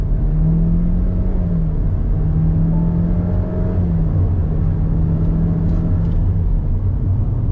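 A 2022 GMC Terrain compact SUV accelerates under throttle, heard from inside as a loud, steady engine drone and road rumble whose pitch rises and then drops back at a shift, with no voices.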